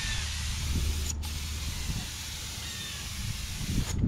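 Clear coat sprays from a paint gun onto the underside of a minivan bumper in a steady, loud, close hiss with a brief pause partway through.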